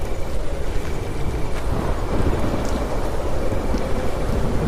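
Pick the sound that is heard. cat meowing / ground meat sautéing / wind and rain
wind and rain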